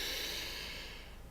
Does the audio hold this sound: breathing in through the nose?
yes